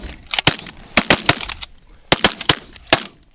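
Several loud shotgun blasts ring out in quick irregular bursts, about eight shots over a few seconds, as hunters fire on geese dropping into decoys during an early-season goose hunt in North Dakota.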